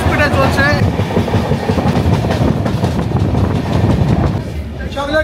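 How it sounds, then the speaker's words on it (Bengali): Tamrolipta Express passenger train running at speed, a loud steady rumble with rhythmic clickety-clack of wheels on rail joints throughout, close and continuous inside the carriage. "ট্রেন বেশ ভালো স্পিডে চলছে।"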